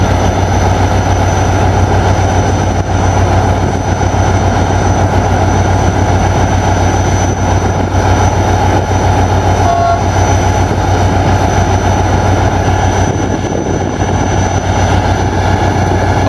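Passing express train with a loud sustained horn whistle, continuous heavy rail rumble filling the scene close by, steady and loud throughout with no talking.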